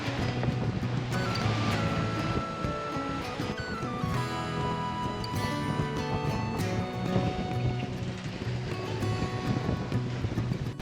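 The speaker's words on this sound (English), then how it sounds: "All of a sudden, we've got 25 knots of wind and we are towing the dinghy behind as well." Strong wind of about 25 knots and rough waves at sea off San Blas hit a sailboat towing a dinghy, creating a loud, continuous rush of wind and surf with whistling tones.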